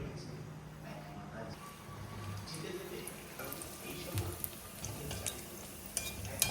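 A Mughlai paratha fries in a pan on a gas stove, giving a low, steady sizzle with occasional scrapes and clinks of a utensil, fairly quiet and close.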